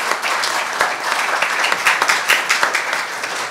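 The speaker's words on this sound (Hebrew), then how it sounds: "נמחא להם כפיים לפני סיום." Lively audience clapping for science prize winners at an awards symposium, dense and uneven with distinct individual claps popping out over the steady applause.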